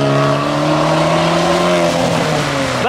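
A modified car leaving a car show accelerates hard close by, its loud engine note climbing steadily in pitch and then easing as it pulls away, with no talk.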